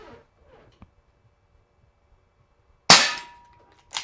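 A Gamo PR-776 CO2 .177 caliber pellet revolver fires one sharp, loud pop outdoors, followed a second later by a fainter second report, with quiet between.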